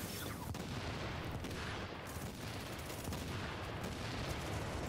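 Sustained gunfire from a firefight in the video game The Division, a dense continuous barrage of overlapping shots and bursts at steady loudness with no voices.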